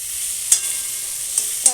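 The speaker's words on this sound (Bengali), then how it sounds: "দেখো এটা ভালোই ভাজা হয়ে গেছে" Dhoka lentil cakes frying in a pan, a faint steady sizzle broken by three brief scraping stirs or clinks, near and short.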